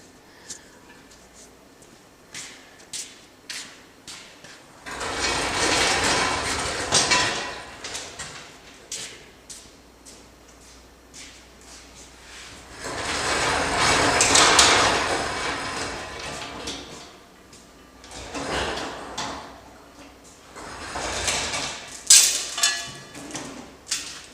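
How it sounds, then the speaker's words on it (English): A workshop gantry is rolled back and an old gearbox from a John Deere CX20 bush hog is lowered onto the floor, giving scattered metallic knocks and rattles with two longer bursts of rolling and clanking noise. "We'll just wheel the gantry back and we'll set it right down on the floor right there"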